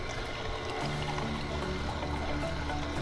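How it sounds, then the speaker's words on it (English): Water runs steadily through a juicer to rinse it out, a soft continuous trickling and pouring sound, faint and close with no speech. "you can actually, in between, run water through it to sort of clean it out."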